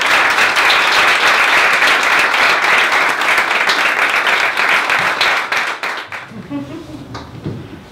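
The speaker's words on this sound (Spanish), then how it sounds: "Así que denle un fuerte aplauso a Carolina Fabra." Loud audience applause from a live event crowd, dense steady clapping for about six seconds that then thins out and fades, with a voice starting to speak as it dies away.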